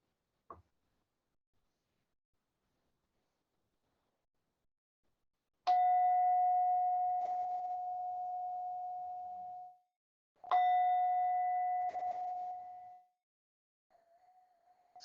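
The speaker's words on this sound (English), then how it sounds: "So with the sound of the bell," A meditation bell rings twice, each a clear sustained tone that slowly decays, after a brief faint tap; a softer tone starts near the end, in an otherwise quiet room.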